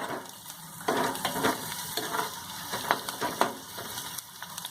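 Onion sizzles in a pan over a gas flame for a Malvani-style sea fenugreek dish, a soft crackling fry broken by several sharp scraping stirs of a spatula, close and fairly quiet.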